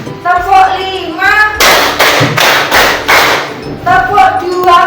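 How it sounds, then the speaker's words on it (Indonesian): A school class clapping a five-clap pattern, two claps then two more then one, in a classroom, loud sharp bursts of many hands together, with a teacher's voice chanting before and after. "Kalau tepuk lima, kanan dua, kiri dua, tengah satu."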